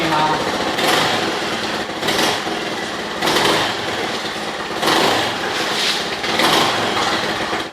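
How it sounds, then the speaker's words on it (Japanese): A Honda 2 hp outboard engine with a replacement carburetor revs up and falls back several times in rhythmic surges, its loud buzz rising and easing over a steady idle, with a voice speaking over it. "アクセルを吹かしてみます"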